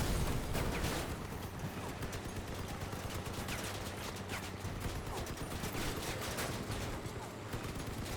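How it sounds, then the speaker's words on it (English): Rapid vehicle-mounted gunfire in Crossout, a dense continuous barrage of overlapping automatic shots and impacts, loud and sustained with no gaps. "Just keep firing, keep firing."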